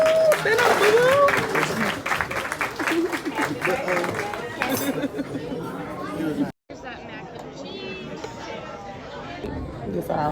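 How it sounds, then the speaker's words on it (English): Restaurant crowd claps for a boy's tenth birthday at Lambert's Cafe, brisk applause mixed with loud chatter, fading into busy room babble after a brief cut. "Let's give him a huge round of applause."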